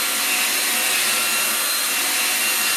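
A drill bores out a pop rivet in a 1969 Austin Healey Sprite MkIV interior with a small bit, giving a steady, close, high-pitched whine that runs unbroken and loud throughout.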